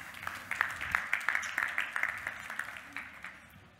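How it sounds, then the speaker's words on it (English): A modest audience gives applause, the claps distinct and fairly faint, fading slightly toward the end. "I can definitely hear the applause"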